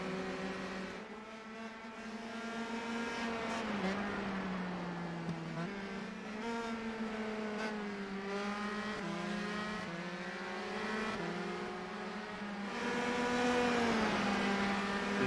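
Race cars at a Grand Prix of Alabama round, engines droning loudly and steadily throughout with rising and falling pitch as cars pass, a continuous dense roar with no talk.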